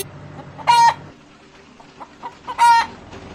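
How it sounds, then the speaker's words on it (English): Chickens in a coop giving two loud, close squawking clucks separated by a pause, with softer scattered clucks in between. "The next stop is the chicken coop."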